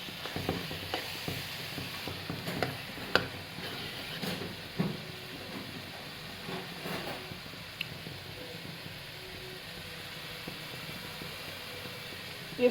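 Turnips stir-fried in a pan with egg, a steady low sizzle broken by scattered scraping and clicking of a spatula against the pan, moderately close and without talk.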